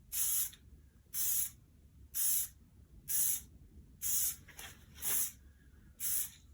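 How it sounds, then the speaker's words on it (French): Spray paint from a small aerosol can applied in seven short, evenly spaced hissing bursts onto a Kawasaki ZX6R motorcycle frame, each burst loud and close, with quiet gaps between. "on va démarrer avec le petit spray"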